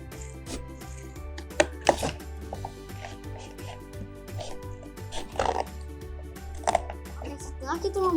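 A knife cuts food with repeated knocks on a board at an uneven pace while a person keeps talking over the chopping.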